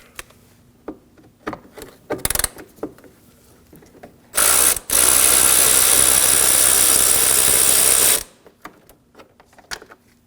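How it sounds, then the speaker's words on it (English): A ratchet loosens the 10 mm bolt securing the air intake shroud on a 2013-2015 Subaru XV Crosstrek 2.0L H4, giving a loud, steady mechanical buzz for about four seconds, framed by brief clicks and handling clatter. "We're going to remove this bolt holding the air intake shroud. This is a 10 millimeter."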